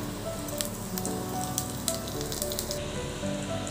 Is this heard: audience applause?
no